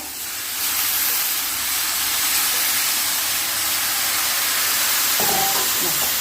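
Water sprinkled onto a hot steel pan on a stove sets off a loud, sustained hiss of steam that starts abruptly and holds steady, with a brief faint clatter near the end.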